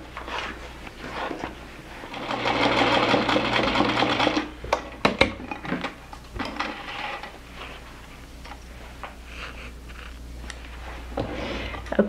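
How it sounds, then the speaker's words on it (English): A sewing machine stitching a quarter-inch seam around a fabric bib, a close, rapid mechanical whirring run that stops and restarts in shorter bursts with small clicks between, no talking. "we're going to sew a quarter inch all the way around"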